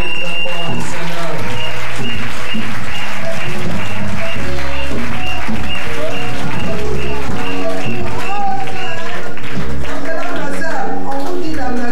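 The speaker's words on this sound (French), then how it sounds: "Est-ce qu'on peut acclamer très fort le Seigneur?" A church congregation at a Sunday service bursts into sustained loud applause and cheering, with steady clapping mixed with voices and music throughout.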